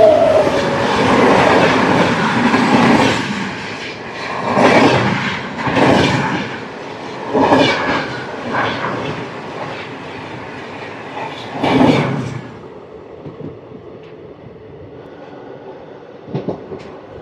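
Coromandel Express 12841 roars past on the opposite main line between Chennai and Howrah, heard from the last coach of another train: a loud rush of wheels with repeated rhythmic clatter bursts, then quieter running rumble.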